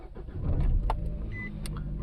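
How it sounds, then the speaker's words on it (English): A manual car fitted with a supercapacitor and LiFePO4 battery setup cranks briefly and catches, a short loud burst of starter and engine noise that then settles into a steadier running hum. "turn the car on"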